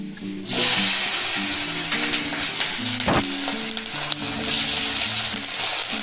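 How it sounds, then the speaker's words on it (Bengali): Potatoes hiss and sizzle steadily in hot oil tempered with whole cumin seeds, a loud close frying sound running throughout with a few stirring knocks. "তো তেলের মধ্যে আমি আলুগুলো দিয়ে দিলাম।"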